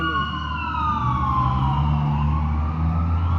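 An ambulance siren wails steadily, its tone sliding up and down, loud and fairly close over a low rumble of traffic.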